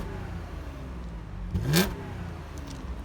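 A supercharged V6 in a 2017 B8-generation Audi S5 with quad exhaust gives a single quick rev blip, rising and falling over a low, quiet engine rumble.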